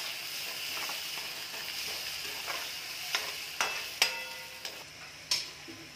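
Salted onions sautéing in a pan, a low steady sizzle with a series of sharp utensil taps and clicks against the pan growing more frequent toward the end.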